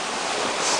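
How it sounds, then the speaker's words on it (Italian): Steady, dense rush of a jungle waterfall near Cahuita, Costa Rica, a broad continuous roar of falling water filling the whole moment with no voices. "siamo qui nella cascata"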